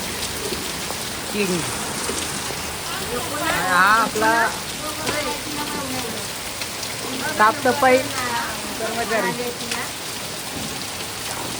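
Heavy monsoon rain pours steadily onto wet ground and surfaces in a flooded street in Thane, a constant close hiss with someone talking over it in bursts.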